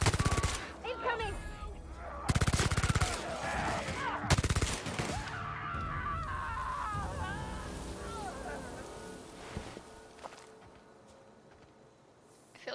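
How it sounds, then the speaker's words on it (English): Video game gunfire rings out in several loud bursts near the start, followed by dense, continuous battle noise with game sounds layered throughout. "I feel like my gun is way more intense now."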